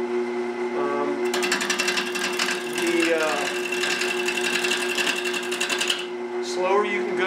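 A wood lathe spins a natural edge bowl at a slow 450 RPM, a steady motor hum overlaid by rapid rhythmic chattering as the tool works the uneven rim, with someone talking over it.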